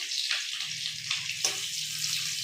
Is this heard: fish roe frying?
yes